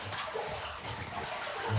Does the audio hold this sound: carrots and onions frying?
no